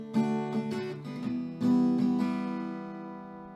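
Acoustic guitar strumming a pair of chords, a few bright strums on the first chord then a switch to the second, ringing out and slowly fading, alone and up close.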